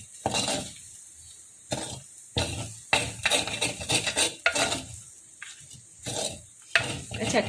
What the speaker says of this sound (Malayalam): ഏറ്റവും അവസാനം ചെയ്യേണ്ടത് തേങ്ങ, അതൊന്ന് ഇളക്കി കൊടുക്കുക